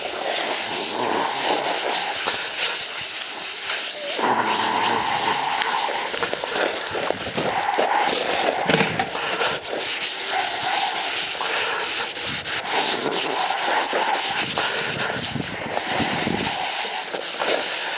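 Steady, continuous rubbing and scouring inside a motorcycle gas tank on a KLR, a rough abrasive scratching that carries on without pause, loud and close throughout.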